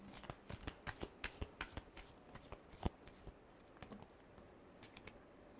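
Tarot cards are shuffled by hand in a quick run of soft, papery riffles and taps, close and fairly quiet, with brief gaps between bursts.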